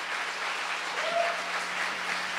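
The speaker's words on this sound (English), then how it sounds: "Another round of applause, please." Brief, even applause from the audience at a literary talk event, a soft continuous patter of many hands clapping at moderate distance with a low steady hum beneath.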